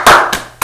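A few sharp, loud hand claps close by on a podcast set, three separate claps in quick, uneven succession with short decays between them.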